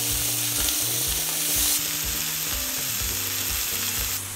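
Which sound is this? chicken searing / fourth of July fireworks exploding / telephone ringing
chicken searing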